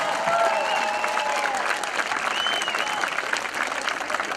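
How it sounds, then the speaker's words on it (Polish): Crowd applause and cheering at an American football game in Poland, steady and fairly loud, with whistles and shouts rising above the clapping. "zasłużył na wielkie brawa"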